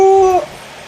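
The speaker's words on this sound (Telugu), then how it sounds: "కుక్క పిల్ల." A puppy gives a single high, tonal whimper that slides down and cuts off, close and fairly loud, followed by quiet.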